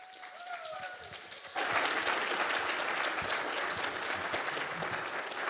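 A conference audience bursts into sustained applause as a speaker is welcomed to the stage, the steady clapping starting abruptly after a brief stretch of quieter room sound and holding loud and even to the end.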